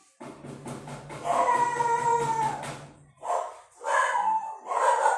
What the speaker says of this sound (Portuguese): Desculpem os cachorros, normal.